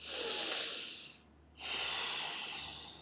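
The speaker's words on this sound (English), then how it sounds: "I'm talking about deep abdominal breathing" A person takes deep abdominal breaths, a long slow inhale followed by a brief pause and then a drawn-out airy exhale, close and quiet with no talking.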